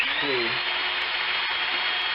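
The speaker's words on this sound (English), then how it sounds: "So this is the first time you've used a drill?" A steady, loud high-pitched whine of a power drill running continuously while mixing pottery glaze, with a brief low voice murmur near the start.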